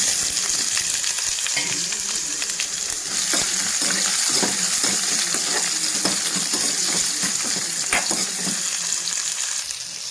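Onion frying in a pan for a banana flower kootu, a steady broadband sizzle with crackles and occasional stirring clinks, close and continuous throughout.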